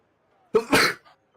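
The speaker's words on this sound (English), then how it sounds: "Had to sneeze in the intro." A single sharp sneeze bursts out close to the microphone in an otherwise quiet room, a quick inhaled catch followed by an explosive breathy release and a faint trailing sound.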